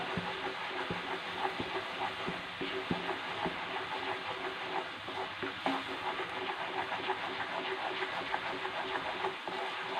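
A spoon stirs a reducing sugar mixture in a thick-bottomed pan, making steady scraping and soft bubbling with small irregular clicks, close and continuous for ten seconds.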